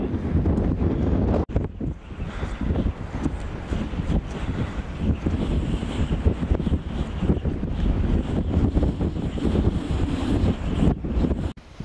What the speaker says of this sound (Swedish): En jävla vind